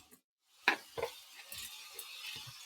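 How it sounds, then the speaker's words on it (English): Washed rice tips into a cooking pot, giving a soft pour and a couple of clinks against the metal, then light rattling and stirring, quiet and close. "we'll put rice, the ones that we washed"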